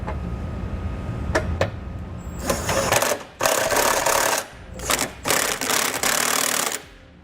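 A ratchet with a 3/4 inch socket snugs up bolts on a Curt trailer hitch receiver on a 2017 Ford Edge, giving close bursts of rapid clicking with short pauses between.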